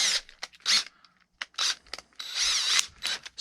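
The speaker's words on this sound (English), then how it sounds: "I don't like to drill a big hole first." A small drill boring a pilot hole in a balsa Stearman model, short whirring bursts stopping and starting close by, each a second or less, with brief gaps of quiet between.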